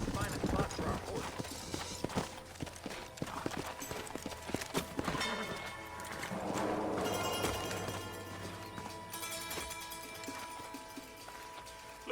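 Horse hooves clip-clop in a quick, uneven rhythm in Red Dead Redemption, close and clear, later giving way to a steadier rumble with other game sounds and voices.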